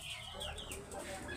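Chickens on a poultry farm cluck and murmur in a faint, busy background din, with a steady wash of noise and no clear speech.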